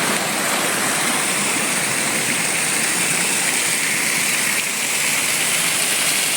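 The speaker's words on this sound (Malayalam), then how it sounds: "വെള്ളം വരുന്ന വരവ്." Floodwater carrying mud rushes loudly and continuously through a village in Valanchery, a dense roaring gush with no pauses and no voices.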